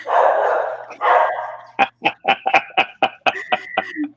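A dog barks in a quick series of sharp, close yips after a stretch of louder muffled noise, the barks coming roughly every quarter second and turning into higher, whiny tones toward the end.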